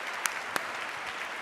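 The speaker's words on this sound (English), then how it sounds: "can we have a huge round of applause for our panel?" A conference audience at the Co-op Congress 2025 applauds a panel with a dense, steady round of clapping, close and even for its whole short length.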